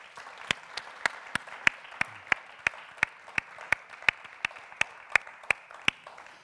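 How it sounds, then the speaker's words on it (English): An audience at a women's keynote event claps in slow, evenly spaced single claps, about twenty of them in a steady rhythm, crisp against a quiet room. "Would you please give yourselves a hand?"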